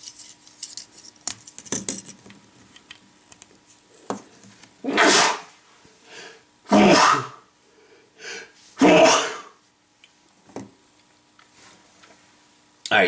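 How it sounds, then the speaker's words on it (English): A few sharp, loud bursts of a person sneezing, spaced about two seconds apart, between quieter clicks and small handling noises in a room. "I had to sneeze"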